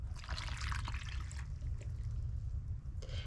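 A yeast water mixture is poured into breadstick dough with 2 tablespoons of oil, giving a close, steady trickle and splash of liquid that runs for a few seconds before tapering off.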